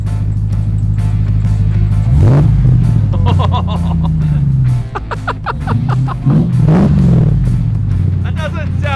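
A Demon Hemi V8 making 840 horsepower in a Jeep Gladiator is revved twice, each rev a loud, deep rumbling surge that climbs and falls, with people talking over it throughout.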